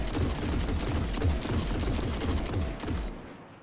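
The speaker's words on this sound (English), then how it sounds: "Here's a comparison of Tlaloc's rate of fire normally, and its rate of fire when your super is fully charged." Tlaloc scout rifle from Destiny firing in rapid, steady succession, each shot a dense punchy burst in a continuous volley for about three seconds before cutting off abruptly.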